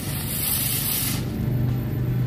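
A jumbo spinning firecracker gives off a loud, continuous fizzing hiss up close, with a low rumble underneath.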